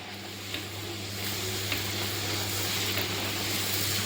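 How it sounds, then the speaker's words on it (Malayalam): Puri frying in hot oil in a pan, a steady low sizzle and bubbling that continues evenly throughout, close and moderate in level, with no talking. "ഇതിലേക്ക് നമ്മൾ പൂരി ഇടാൻ പോവുകയാണ്"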